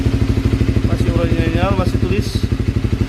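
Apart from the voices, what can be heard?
Honda CBR 150R four-stroke motorcycle engine running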